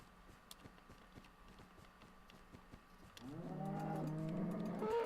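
A cow in a modded video game moos in a drawn-out, harmonic low call that begins partway through and swells loudly, after a stretch of quiet ambient noise with faint clicks.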